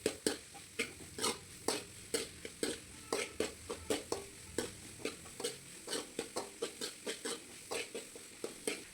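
Chopped large onions are stirred in a pan for a pea kulambu, a spoon scraping the pan in steady repeated strokes under a soft sizzle, close and clear with no talk.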